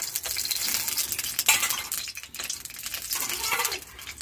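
Ghee melting in a hot pan for making semolina barfi gives a steady, close sizzle with soft scraping and stirring noise throughout, with no talking.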